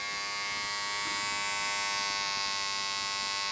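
An electric shaver buzzes steadily and loudly through a shave, a continuous motor whine with a bright high-pitched hum and slight rasp, heard close up with no talking.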